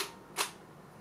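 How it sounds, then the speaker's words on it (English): A single mechanical click-clack of a Nikon D4 camera shutter firing in live view, one quick crisp snap near the middle of an otherwise quiet moment. "And its shutter sound"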